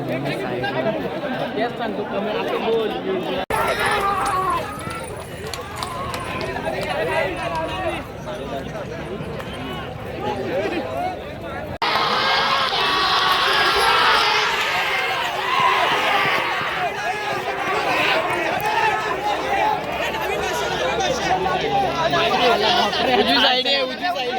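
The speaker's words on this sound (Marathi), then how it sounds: "गर्दी झाली बघू शकता" A large crowd gathered at a bullock cart race chatters in a dense, continuous hubbub, the babble growing louder and brighter partway through as excitement rises.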